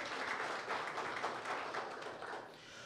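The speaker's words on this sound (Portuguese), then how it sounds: "Uma salva de palmas." Audience applause at a formal consumer defense commission session in Angra dos Reis, Brazil: a steady wash of many hands clapping that fades slightly toward the end.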